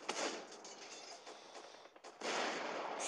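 Explosions in an animation, a quiet run of sharp, crackling blasts and rumbles that thins out midway before a second dense burst of booming noise takes over to the end.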